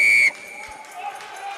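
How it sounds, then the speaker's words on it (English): A referee's shrill whistle blast at an under-20 rugby match between Ireland and Scotland rings sharply for a moment, then cuts off, leaving the murmur of a distant crowd. "It's a loud, shrill blast off the whistle from Egon Seconds from South Africa."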